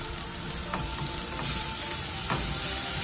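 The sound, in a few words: garlic roasting in oil in a pan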